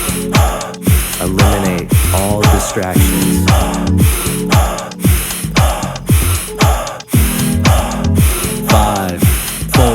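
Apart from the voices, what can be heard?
fast breath of fire breathing exercise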